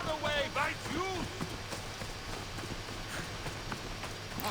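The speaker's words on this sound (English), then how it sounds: "even though you're on a horse and it's trotting" A horse trots in Assassin's Creed Odyssey, its hooves tapping in a quick, light rhythm under voices talking, with a short vocal burst early on before the steps settle into a faint, steady patter.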